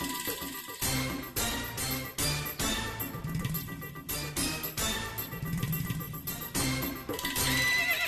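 A horse pulling a cart whinnies loudly and repeatedly, with near, harsh neighs filling the street scene alongside faint hoof clatter.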